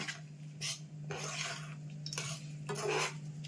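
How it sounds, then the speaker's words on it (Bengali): Green peas tossed with spices in a hot pan for matar paneer, a spoon scraping and stirring in several bursts of gritty, close-up sound over a steady low hum. "এবার মটরগুলো, কড়াইশুঁটিগুলো দিয়ে দিচ্ছি। দিলে এবার ভালো করে নাড়া দিতে হবে"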